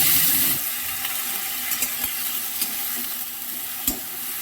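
Onion paste hitting hot oil already holding fried garlic, with a steady broad frying hiss and a few soft stirring clicks, cooked in a home kitchen for a raw mango dish; no one talks.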